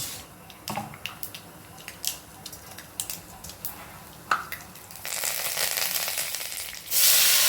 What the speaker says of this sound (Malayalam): വെളിച്ചെണ്ണ ഒഴിച്ച് ഇച്ചിരി അരി ഇട്ടിട്ടുണ്ടായിരുന്നു. അതിൻ്റെ കൂടെ കടുക് കൂടെ ചേർത്ത് കടുക് വറുക്കാം.